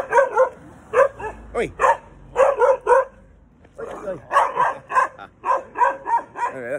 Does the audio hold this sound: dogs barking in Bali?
yes